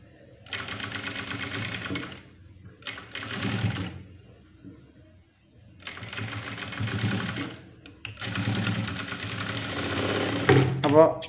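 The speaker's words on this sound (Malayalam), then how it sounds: "ഇവിടെ വരുമ്പോഴും ഇതുപോലെ തന്നെ നിർത്തി തയ്ച്ചു കൊടുക്കുക" A sewing machine stitching a cross-cut blouse neck runs in four close, loud bursts of rapid rattling, separated by short pauses.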